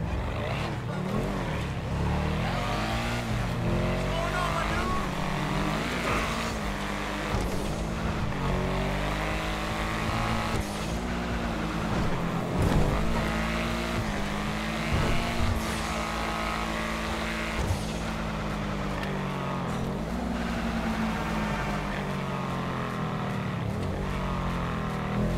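In GTA 5 Online, an Obey 8F sports car's engine drones steadily as it drives, pitch climbing and dropping through gear changes, loud and continuous throughout, with occasional talk over it.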